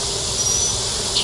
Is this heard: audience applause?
no